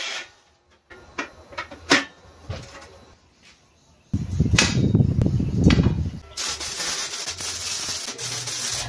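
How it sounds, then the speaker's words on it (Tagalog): An abrasive bit in a drill press grinds a metal clothesline part, with a loud, rough rasping burst in the middle and scattered scrapes and knocks around it. A faint voice comes in briefly. "At sa wakas, nagkaroon din ng gamit itong abrasive bit na to na matagal nang binili ni Eroy."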